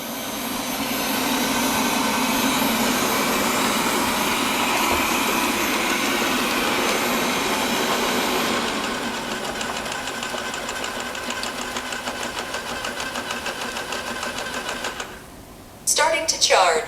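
A Wyze robot vacuum whirs loudly and steadily as it moves back to its charging dock, its motor note dropping partway through before a few clunks at the end, with a person talking.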